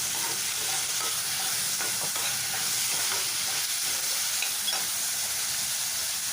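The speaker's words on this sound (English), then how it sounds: "Now into these onions that are fried, I chopped up one tomato. I put that in. I stir this very well." Chopped tomato is stirred into fried onions in a pan, a constant hissing sizzle with soft stirring scrapes underneath, even and close throughout with no talking.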